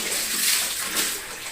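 Water pours into containers in a steady, splashing rush, close and fairly loud, running continuously through the brief moment.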